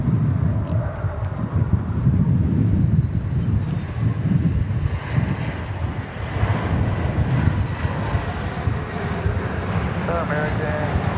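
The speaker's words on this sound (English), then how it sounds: "RNAV Lauren, 18 left, clear for takeoff, American 555. It's an Airbus A321." An American Airlines Airbus A321 takes off from runway 18 left at DFW Airport, a broad, steady jet engine roar rumbling at a distance under talk, with radio chatter heard now and then.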